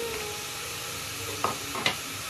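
Capsicum and broccoli being stirred as they fry in a pan, with a steady close hiss of sizzling and two short clacks of the spatula near the end; no speech.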